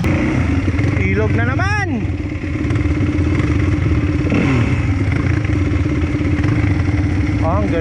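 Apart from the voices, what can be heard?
motorcycle engine started on enduro trail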